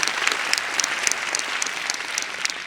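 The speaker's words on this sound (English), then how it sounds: "So let's give Fitness Factory a round of applause, please." An audience at a Fitness Factory lecture in Taipei gives a round of applause, a dense, even clatter of many hands with a few sharper individual claps standing out.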